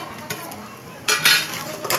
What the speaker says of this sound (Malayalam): നന്നായിട്ടൊന്ന് വറുത്ത് മൂപ്പിച്ച് കൊരുക.